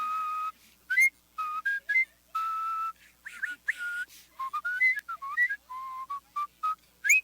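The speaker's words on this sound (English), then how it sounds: "I'm doing the wah-wah, I'm doing the lip whistle, I'm doing the warble in there, so I'm combining a whole bunch of things." A champion whistler performs a lip whistle mixing wah-wah bends and warbling trills, with clear, bright phrases broken by short pauses, close and solo.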